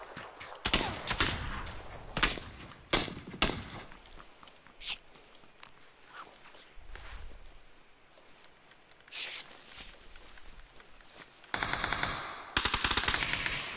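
Rapid automatic gunfire from the video game PUBG, several loud bursts early on, scattered single shots and thuds in between, then a dense, loud burst of fire near the end.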